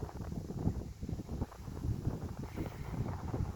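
Steady outdoor wind blowing across the microphone, a continuous low rumbling gust noise that swells and eases throughout with no voices.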